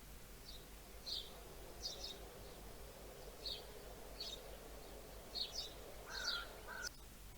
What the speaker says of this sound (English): Chirping birds produce soft sounds.